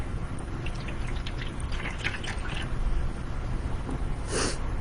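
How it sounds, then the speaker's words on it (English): Water pours from a measuring cup into a bowl for a rainbow bubble snake activity, a steady trickling splash under faint background hiss that ends in a brief louder splash near the end. "So there's 2 cups of water that goes into my bowl."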